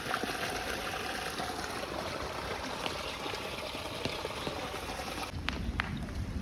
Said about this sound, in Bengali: এই যে এখানে পানি আসলে আসতেছে, আমাদের পুকুর তো ভর্তি হয়ে গেল।